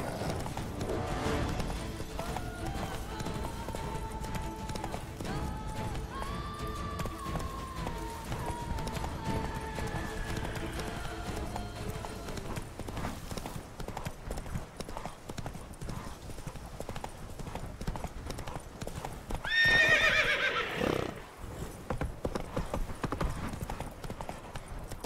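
In The Witcher 3: Blood and Wine, the horse Roach gallops with continuous rhythmic hoofbeats over a steady game background, and a loud, sharp neigh rings out near the end.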